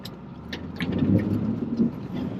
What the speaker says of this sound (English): Now we're getting a little Sierra afternoon rain,